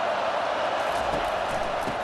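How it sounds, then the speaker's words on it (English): A steady roar of a stadium crowd in EA Sports College Football 25, a broad, even wash of distant cheering with no distinct breaks, fairly quiet overall. "This crowd bringing the energy and noise early."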